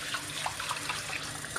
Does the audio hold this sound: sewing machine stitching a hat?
no